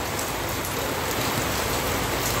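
Heavy rain pours steadily onto a rooftop, a dense unbroken hiss of drops close by, with no voices.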